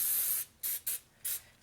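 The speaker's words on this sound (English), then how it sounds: "Spray your pan real good with that." Cooking spray hisses from an aerosol can onto a baking pan in four short bursts: one long spray, then three quick ones, close and clear.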